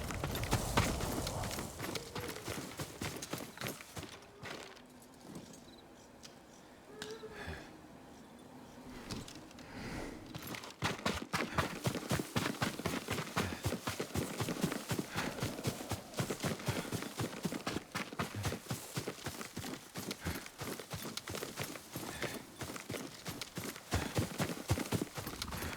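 Horse hooves clip-clopping in the Ghost of Tsushima video game: a steady, rapid run of hoofbeats that eases into a slower patter and then picks back up to a fast, loud canter, close by, with no speech.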